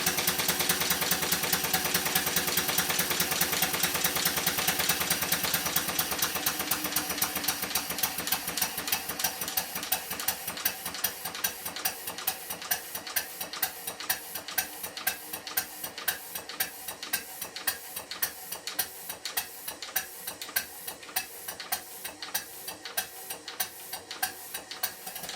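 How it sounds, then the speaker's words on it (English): A small model showman's traction engine runs on compressed air, its rapid mechanical ticking settling from a dense blur into an even, quick clatter that carries steadily and fairly quietly. "I'll leave the engine running on compressed air until the end of the video."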